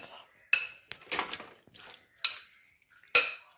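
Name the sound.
pan being moved in the kitchen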